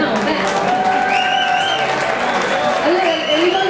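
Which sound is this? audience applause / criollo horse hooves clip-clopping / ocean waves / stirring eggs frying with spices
audience applause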